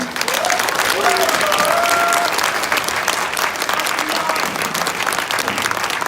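Party members at a new-member education meeting with a lawmaker applauding in a strong, sustained burst of clapping that fills the room, with faint talk underneath.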